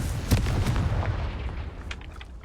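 The Confringo fire spell in the video game Hogwarts Legacy goes off with a sudden booming blast that quickly fades into a crackling rumble, loud and close, with no talking.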